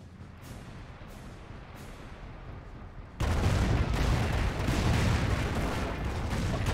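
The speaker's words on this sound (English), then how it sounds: "Flyby detonate a good number of the butterfly bombs." Butterfly bombs from an air flyby go off in Company of Heroes 1, a dense roll of explosions that jumps to a loud, sustained rumble of blasts and crackling detonations after a quieter stretch of distant booms.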